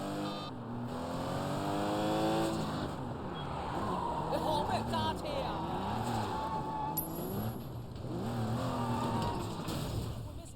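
Car engine in the video game Sleeping Dogs, droning and revving continuously under game dialogue, with pitch rising and falling as the car drives along.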